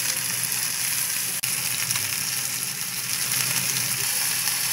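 Pork and mushrooms fry in a pan, a loud, close, continuous sizzle with a brief interruption near the start and no talk.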